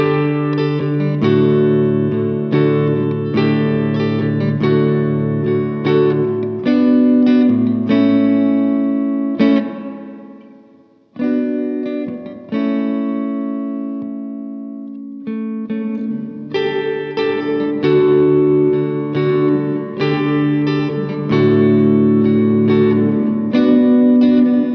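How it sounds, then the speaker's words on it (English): An electric guitar plays through a Boss RV-2 digital reverb pedal on its hall settings, sustained chords and notes ringing out with a wide, spacious tail, loud and alone with no talking. "Then we've got our hall reverbs in settings 2 and 3, which give us a little more space."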